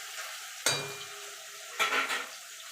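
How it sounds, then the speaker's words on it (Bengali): Paneer fries lightly in a pan with a soft, low sizzle, interrupted by two sharp scrapes and clinks of a utensil against the metal, close by and without talk. "এবার হালকা করে ভেজে তুলে নেব।"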